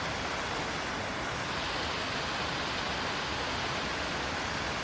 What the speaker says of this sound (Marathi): आणि हा इकडे सुंदर असा झरा वाहतोय